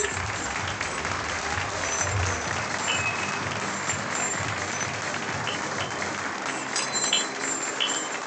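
Applause from the crowd at the Kayak Surf Worlds closing ceremony in Argentina, a loud, sustained wash of many hands clapping continuously with faint crowd noise mixed in.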